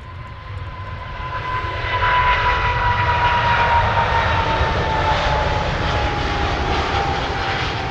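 An EasyJet airliner passing near Manchester Airport, its engines giving a steady, loud roar with a faint whine on top. The sound swells slightly as the aircraft goes by and stays continuous, with no voices.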